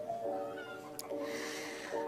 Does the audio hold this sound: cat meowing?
yes